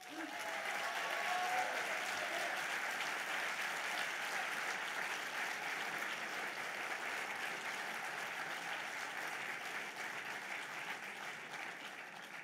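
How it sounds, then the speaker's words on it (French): Sustained audience applause at a French party congress, a dense, steady wash of clapping from a large crowd filling the hall at even loudness throughout. "de vous demander d'applaudir Claire Fita et Lamia El Haraj"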